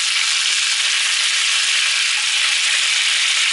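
Lamb chops sizzling steadily in a hot frying pan, a dense, even hiss of fat crackling close up, loud and unbroken with no talking.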